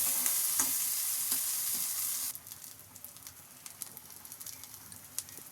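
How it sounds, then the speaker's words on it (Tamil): Chopped okra sizzles and fries in a hot pan, loud hissing at first that drops abruptly after about two seconds to a quieter steady crackle with scattered pops and stirring. "வெண்டைக்காய் சின்ன சின்னதாக கட் பண்ணியிருக்கேன், அதையும் இதில் போட்டுப்போம்."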